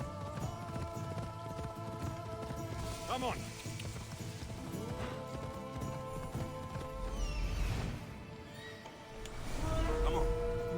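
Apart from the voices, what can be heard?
horse galloping in video game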